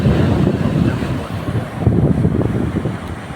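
Steady rumbling wind buffeting the microphone over the low wash of sea waves, loud and continuous with no voices.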